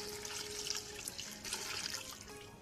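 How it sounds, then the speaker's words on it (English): Six cups of water pour steadily into a pot for chicken noodle soup broth, a continuous close splashing and gurgling stream at moderate level with no talking. "And now we're just gonna top it with 6 cups of water."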